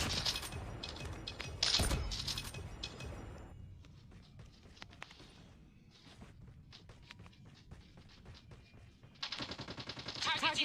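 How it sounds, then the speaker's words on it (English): Automatic sentry gun in a multiplayer first-person shooter firing during a hardpoint match, heard as loud bursts of rapid gunfire at the start, then scattered quieter shots and footsteps, with another heavy burst near the end. "Be advised, hostile sentry gun spotted."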